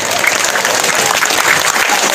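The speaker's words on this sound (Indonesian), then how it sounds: "tepuk tangan khusus ibu-ibu," Women in the congregation of a humorous Islamic sermon clap together, a thick, lively patter of many hands filling the space, steady and fairly loud with faint murmuring under it.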